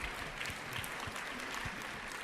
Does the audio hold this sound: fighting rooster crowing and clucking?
no